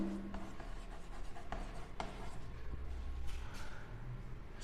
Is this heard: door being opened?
no